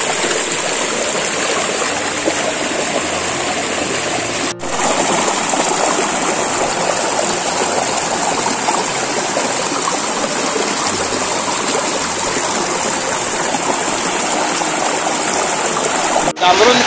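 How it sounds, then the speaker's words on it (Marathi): A river stream at Jambhrun flows steadily past a cottage veranda among trees, a constant loud rushing and gurgling water sound that continues unbroken throughout. "पाण्याच्या आवाजात एकरूप झालो"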